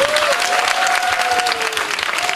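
Dense, steady applause fills a church hall as a congregation at a family worship service claps for its video team, loud and continuous from start to finish.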